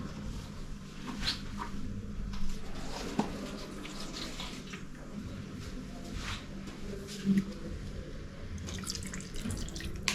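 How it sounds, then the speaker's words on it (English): Water poured into a pot of pork for boiling in a home kitchen, a soft continuous splashing and trickling with a few louder sloshes, fairly quiet. "Let me add some water."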